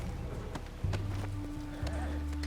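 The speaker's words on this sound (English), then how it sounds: "Um cavalo bonito, velho." Horse hooves clip-clop in Red Dead Redemption 2, a steady walking rhythm heard faintly beneath game sounds and a low engine-like drone.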